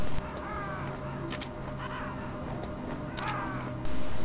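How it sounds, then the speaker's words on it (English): Crows caw in the Metal Gear Solid video game, a few harsh calls sounding over a steady low game ambience. "Crows."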